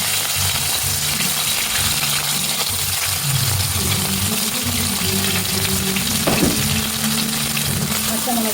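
Crushed ginger and garlic fry in hot oil in a pan, a loud continuous sizzle and crackle with occasional clinks and stirring, and a voice talks faintly underneath.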